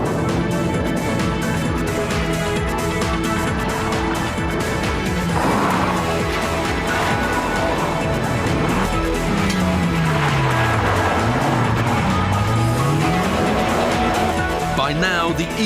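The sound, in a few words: Mitsubishi Evo car racing around a track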